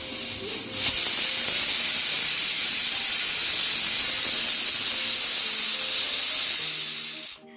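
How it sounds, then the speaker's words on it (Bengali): A pressure cooker whistle blasts steam in one loud, sustained hiss after a brief start, running steadily for about seven seconds before cutting off abruptly, with faint kitchen hum beneath. "এরপর কুকারে ঢাকাটা লাগিয়ে দেব জাস্ট দুখানা সিটি দেব"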